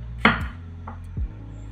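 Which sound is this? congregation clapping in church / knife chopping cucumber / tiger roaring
knife chopping cucumber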